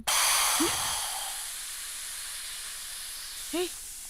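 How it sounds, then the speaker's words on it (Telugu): A kitchen pressure cooker releases steam in a loud, close hiss that fades slowly, followed by a short, whistle-like chirp near the end. "కుక్కర్ విజిలేసింది"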